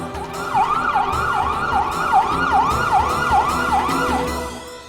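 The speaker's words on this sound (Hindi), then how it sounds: "एम्बुलेंस।" Ambulance siren wailing in a steady, repeating rising-and-falling sweep, loud and continuous throughout, with a low rumble beneath and no voices.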